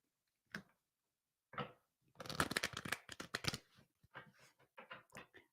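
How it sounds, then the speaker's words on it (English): A deck of tarot cards is shuffled by hand, with a couple of brief riffles followed by a dense burst of rapid flicking and several shorter shuffling bursts, close and crisp with no talking. "I need to reshuffle this deck"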